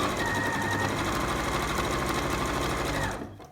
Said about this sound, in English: I'm just going to sew quite close to the edge